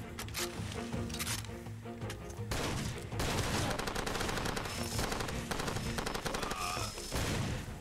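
Bursts of machine-gun fire and rapid gunshots crackle through a Far Cry 2 firefight, loud and near, in dense volleys with short gaps.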